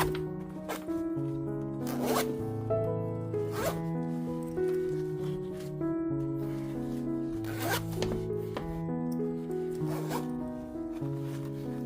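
A repaired metal zipper slider is run along its teeth several times, each pull a quick rasping zip over steady background music.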